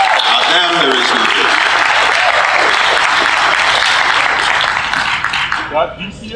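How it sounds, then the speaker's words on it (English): A large audience at an anime convention closing ceremony breaks into sustained loud applause for the event team, a dense wash of clapping and some cheering that fades slightly toward the end. "I want you guys to give them a round of applause"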